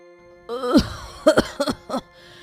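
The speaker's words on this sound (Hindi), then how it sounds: "बहुत तेज खांसी हो रही है।" A woman coughs heavily: one long, strained cough followed by a rapid series of three or four shorter, rasping coughs, close and loud.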